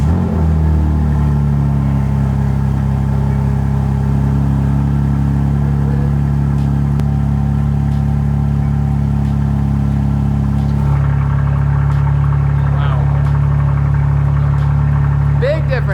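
A BMW G80 M3 fitted with an AWE catback and mid pipe exhaust idles with a deep steady rumble, then revs and settles back, loud and close throughout, with people talking over it.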